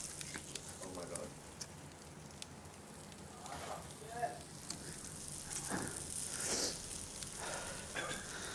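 Red Emperor fish stuffed with finger lime, ginger and lemongrass sizzles over hot coals outdoors, a soft steady crackle and hiss with a few brighter pops, while people talk nearby.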